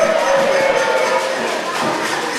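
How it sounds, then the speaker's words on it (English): A university quiz-competition audience gives a dense, steady round of applause that carries evenly through the short moment. "A round of applause to them."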